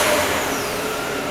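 A Peugeot 408 engine running at a steady idle just after being started, a continuous broadband mechanical hum and whir heard close up with no voices.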